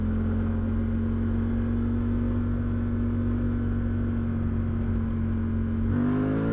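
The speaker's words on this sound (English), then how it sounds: "The strange thing about the wind noise is, well, it is quite loud, but there's not a lot of turbulence" A Suzuki V-Strom 800 DE motorcycle accelerating hard, its steady engine drone holding under loud, constant wind rush, then shifting pitch near the end as the revs change.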